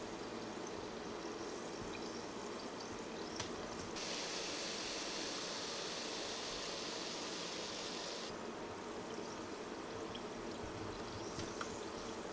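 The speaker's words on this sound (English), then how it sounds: "Yes, more bubbles." Steady fizzing hiss of bubbles rising in a homemade Saudi champagne drink, a non-alcoholic fruit drink, continuous and fairly quiet throughout with a brief brighter burst in the middle.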